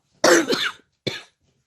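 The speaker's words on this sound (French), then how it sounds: "Je tousse, je suis malade" Two sharp coughs close to the listener: a longer, harsher one followed by a brief second cough after a short pause.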